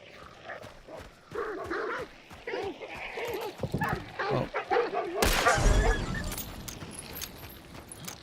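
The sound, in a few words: dog barking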